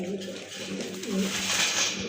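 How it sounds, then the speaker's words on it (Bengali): Red Bombay pigeons cooing in a pigeon seller's loft, a few soft, low throaty coos close by, with a brief rise in bright background noise toward the end. "আরেক জোড়া কবুতর দেখতে পাচ্ছেন টকটকে লাল বোম্বাই কবুতর"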